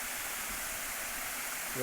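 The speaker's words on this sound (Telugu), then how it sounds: "పైనుంచి నీళ్ళు వస్తున్నది" Water pours down from a hill onto a pond embankment, a steady broadband rushing like a small waterfall, continuous and fairly close for the whole stretch.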